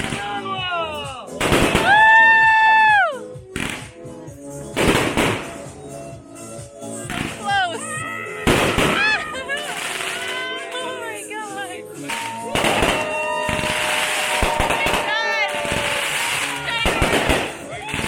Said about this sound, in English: There's gonna be a fireworks show on the top of Miskito Hill in Little Corn Island.